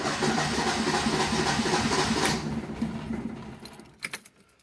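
Engine of a 1980 Ford Fiesta starting after months of standing idle: a loud, steady rumbling roar for about two seconds, then fading unevenly, with a few sharp metallic rattles near the end.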